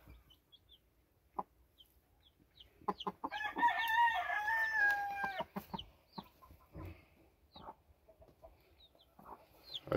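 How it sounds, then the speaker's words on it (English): A game rooster crows once, loud and drawn out, among two hens, with scattered clucks and soft knocks around it in a quiet summer yard. "Looks like two hens and a rooster."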